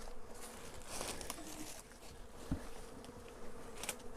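Honeybees buzzing around a hive sitting on a pallet outdoors, a dense, continuous droning hum of many insects close by, with a few louder passes as bees fly near.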